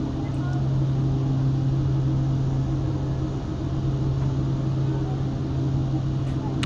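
Dornier 228 twin turboprop engines drone steadily inside the X-Plane 11 cockpit, with a constant low hum and a persistent electric fuel pump whine running throughout, loud and unbroken.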